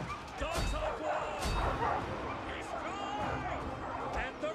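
Fantasy war dogs in the Total War: Arena video game bark and yip repeatedly amid battle noise and shouted voices, loud and close throughout.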